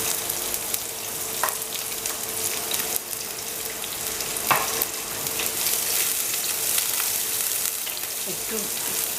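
Onion and garlic fry in a spoonful of oil in a pan, giving a steady continuous sizzle with occasional soft scrapes of stirring, close and unbroken, no talking.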